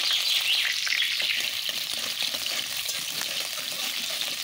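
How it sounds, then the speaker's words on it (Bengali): Cut potatoes frying in hot oil in a wok give a steady, loud, close sizzle with dense crackling that holds evenly from start to finish, with no voices. "তেলটা গরম হয়ে গেলে এখন আমি সুন্দর করে কেটে রাখা আলুগুলো ভেজে নেব"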